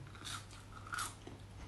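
Biting into delivered French fries topped with tangy masala and sweet sauce, giving a few soft, quiet crunches over about two seconds with no talking.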